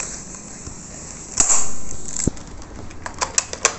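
Airsoft gun shooting during practice: a few sharp, snappy cracks spaced irregularly, mostly toward the end, over a faint background with a brief whooshing swell in the middle.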